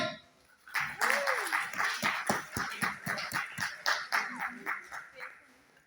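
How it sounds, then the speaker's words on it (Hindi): Audience at a mushaira poetry gathering claps in a steady, rhythmic beat that continues for several seconds, fairly close, with a brief voice heard as the applause starts. "तो अब तो तालियां बनती हैं।"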